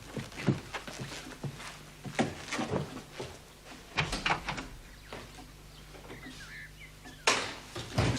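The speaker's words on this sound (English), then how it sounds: "Mrs. Honeycott, you hear that door slam and think it's your sister coming in" A front door in an old house opens and slams shut amid shuffling footsteps and knocks, several sharp bangs spread across the clip with one loud thud near the end, moderately close and not masked by speech.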